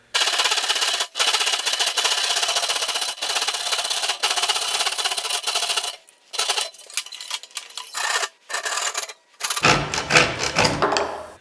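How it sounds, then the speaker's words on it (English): A handsaw cutting down the middle of a PVC pipe, a loud, rapid rasping stroke sustained for several seconds, then shorter choppy strokes with brief pauses. "I'm going to use a handsaw because my bandsaw right now is out of service. So cut down the middle of this pipe"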